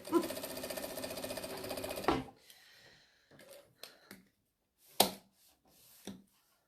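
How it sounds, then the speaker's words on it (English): An industrial sewing machine stitches quilt fabric made from jelly-roll strips for a strip tote, running in a fast, steady buzz for about two seconds before stopping, followed by scattered faint clicks and light handling noises. "I love the stitch on this machine"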